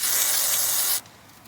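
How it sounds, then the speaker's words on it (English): WD-40 lubricant hisses from a spray can in one loud, close burst lasting about a second during a Suzuki Jimny tail shaft and transfer case repair, then cuts off sharply. "A little bit more WD-40, never goes astray."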